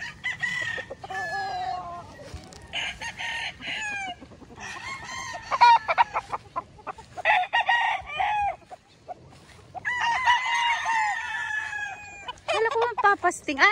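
Several chickens cluck and squawk in bursts, with a rooster crowing among them on a farm before feeding, fairly close, while a person speaks softly in between.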